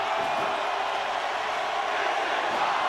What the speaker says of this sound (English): the crowd is loving this match